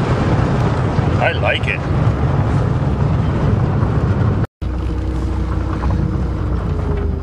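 A Volvo turbo car on a test drive after a radiator hose repair roars steadily as it accelerates, a loud continuous engine drone with wind buffeting, with someone briefly speaking over it.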